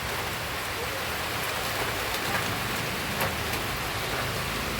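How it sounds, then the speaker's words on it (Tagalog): Heavy rain pouring down steadily at a chicken coop, a dense continuous hiss of drops drumming on surfaces, loud and unbroken with no talk. "Lumakas na naman ang ulan."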